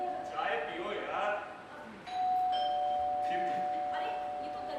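A doorbell rings in a Hindi stage play: a single sustained electronic ding tone starts midway and rings on steadily, following a stretch of people talking.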